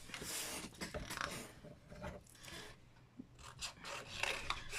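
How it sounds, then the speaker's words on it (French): A paper scrapbooking embellishment being cut out by hand, heard as quiet, close, irregular rasping snips and rubbing strokes, with no talking. "Et ça, je vais le découper."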